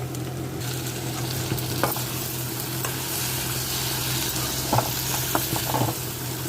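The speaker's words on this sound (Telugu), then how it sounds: "ఇవి ఆయిల్లోని బెండకాయలు మగ్గినాయండి" Okra pieces frying in oil in a pan for a tangy lady finger curry, a steady close sizzle with occasional stirring clinks and scrapes, no talking over it.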